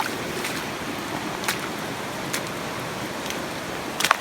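A creek flows steadily beside a woodland path on a rainy day, a soft continuous wash of water heard close by with a few faint clicks.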